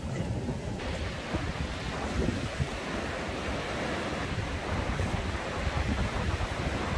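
Ocean surf rolls and washes continuously onto an empty beach at Sokcho, a steady broadband roar of breaking waves with gusts of wind buffeting the microphone, no voices present.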